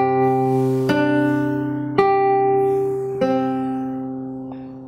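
Fingerstyle acoustic guitar playing a phrase, with three plucked chords ringing out one after another and decaying cleanly.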